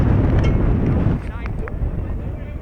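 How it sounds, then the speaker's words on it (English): Gusting wind buffets an outdoor microphone at a high school baseball game, a steady rumbling roar that eases partway through as a gust dies down, continuous across the whole stretch. "Wind picking up and dying down. Steady breeze, but we have gusts that come and go."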